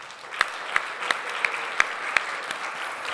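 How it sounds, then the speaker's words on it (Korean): A congregation at a Sunday worship service claps for a young man just back from three years of military service, a soft round of applause with a few sharp, evenly spaced louder claps standing out near the microphone. "고생했다고 3년 동안 두고 박수 한번 하겠습니다"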